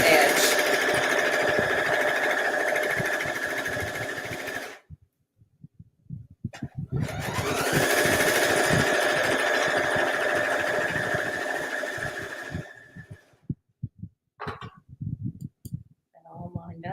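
A sewing machine stitching along the long sides of quilt fabric, running in two long steady bursts of rapid mechanical clicking separated by a pause, with a few short stitch bursts and handling noise near the end, close up.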